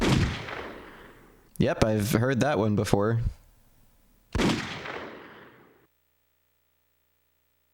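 Two sharp gunshot sound effects from a PS2 video game demo, each a loud blast with a fading tail, separated by someone speaking.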